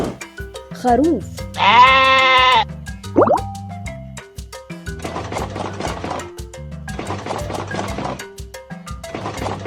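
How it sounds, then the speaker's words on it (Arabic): A sheep lets out a single wavering, nasal bleat, close and clear, set among short plopping and dripping sound effects. "خروف."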